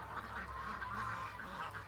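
Ducks quacking in a steady, continuous chorus at close range, with the calls overlapping throughout and no voice present.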